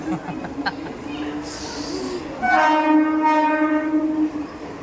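A train pulls into a railway station in Maharashtra, a steady rumble of rail cars building and then turning to a sustained horn-like tone, with people talking over it throughout.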